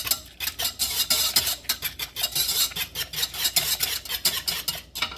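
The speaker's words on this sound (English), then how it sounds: "Gradually, and then whisk it in briskly." Brisk whisking of a sweet and sour sauce thickened with xanthan gum for tofu, a close, steady run of rapid metallic scraping strokes against the bowl with no voices.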